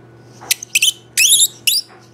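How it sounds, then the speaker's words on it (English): The battery cap threads of a Mag-Lite Mag Tac rechargeable flashlight squeak in four sharp, high-pitched bursts of uneven length as the cap is twisted, loud and close with no talk. "That thing is, those threads are so squeaky."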